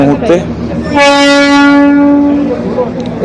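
At Darjeeling station, a Darjeeling Himalayan Railway train sounds one loud, sustained horn blast lasting about a second and a half, close by, with voices from the platform around it.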